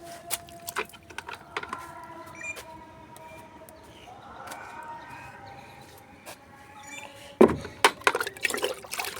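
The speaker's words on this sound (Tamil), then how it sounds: "இங்கே பாருங்கள் ஒரு கப்பு ஊற்றுறோம்" Liquid fertilizer poured from a cup onto a garden plant: trickling, splashing pours close by, with a sharper, louder splash toward the end and faint voices in the background.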